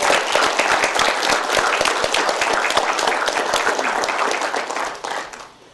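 A county board meeting audience gives a loud, dense round of applause, continuous close clapping from many hands that holds steady for several seconds before tapering off at the end.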